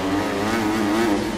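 A motorcycle engine in the Supercross video game holds a steady, mid-pitched drone at close range, with no break or rev change for its short length.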